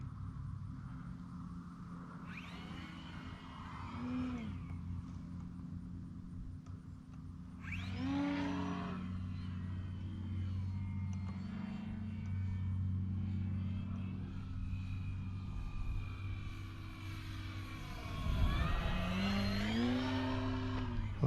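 Electric motor of an FMS Ranger 1800mm RC plane during a stall turn: a steady whine climbs and fades as power is cut, then surges loud again near the end, heard from the ground with wind and field noise.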